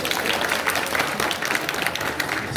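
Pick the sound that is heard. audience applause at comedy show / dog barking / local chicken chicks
audience applause at comedy show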